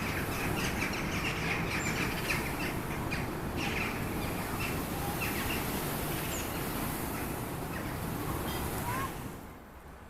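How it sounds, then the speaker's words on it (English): A flock of common starlings in a murmuration sweeps very close past, their wings churning the air into a dense, continuous rushing whoosh with scattered calls, fading slightly at the end. "common starlings are observed flying very close to the camera, to the extent that the sounds they produce by disrupting air currents are clearly audible"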